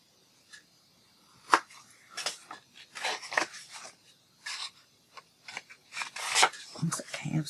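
Scissors snip through paper card held by hand in a crafting session, heard as a series of close, crisp cuts and rustles coming in irregular bursts with quiet gaps between them.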